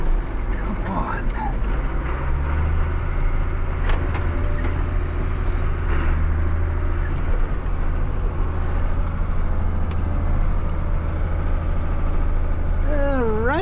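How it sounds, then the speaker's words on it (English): A car climbing an icy hill and starting to lose traction: a steady engine drone with a low rumble throughout and a rising whine near the end, while people talk over it. "Right at the corner there, it's starting to break traction a little bit."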